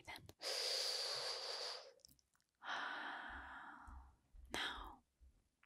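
A slow, close breath drawn in through the mouth and let out in a soft sigh, then a second softer breath, with faint clicks between, heard alone in a quiet room.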